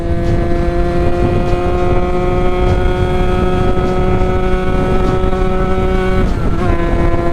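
Sherco Supermoto 50 with a big bore AM6 two-stroke engine held in fifth gear, a loud steady high-pitched engine whine with layered harmonics, faintly rising in pitch before a brief dip near the end, with no talk.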